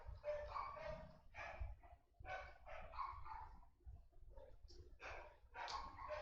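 Several dogs bark in bursts in a nearby room, a repeated run of sharp barks with short pauses and a few whimpering yips, standing alone without talk.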